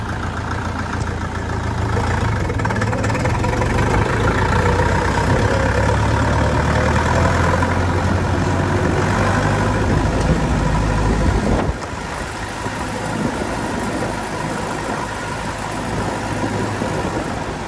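Euro Feng 454XL tractor, a cabless compact model with no reverse gear, engine chugging steadily while driving, a loud, close, rough low drone that shifts slightly in pitch partway through, with no talking.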